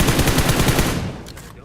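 A rapid burst of automatic gunfire in the battle royale game BGMI, about a dozen quick evenly spaced shots up close, then fading out.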